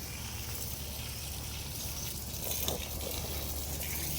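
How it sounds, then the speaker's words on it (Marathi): Water sprays onto trees in a village yard in the morning, a soft continuous gushing hiss with a brief louder splash midway, fairly faint and without voices. "हा इकडं पाणी मारते झाडांच्यावर"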